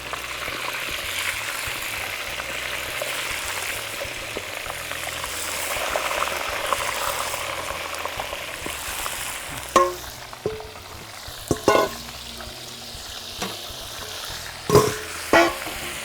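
Pieces of Dungeness crab quick-frying in hot oil, a busy continuous sizzle and crackle with a few sharper pops and clatters of utensils near the end, no voices.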